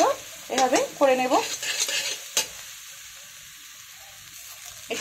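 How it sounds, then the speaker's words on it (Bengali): Eggs fry in hot oil in a wok and are stirred, with a loud opening burst of sizzling and spatula scraping, one sharp clank, then a quieter, steady sizzle that continues alone. "প্রথমে আমি ডিমটাকে ভাজবো"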